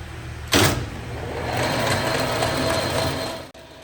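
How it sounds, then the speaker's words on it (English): An antique Logan lathe starts with a sharp click and then runs with a steady, moderate mechanical hum and whir that holds for a few seconds before a quick click at the end. "And we're also going to try the old Logan Lathe here."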